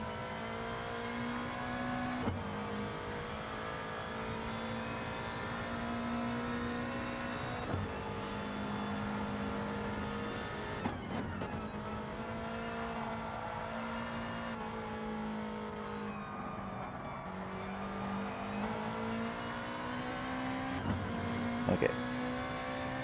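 GT race cars lap Suzuka Circuit in a racing video game, a steady engine drone holding near-constant pitch with slight rises and dips, fairly quiet and continuous with no talk heard.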